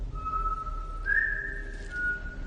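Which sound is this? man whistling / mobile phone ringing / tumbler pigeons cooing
man whistling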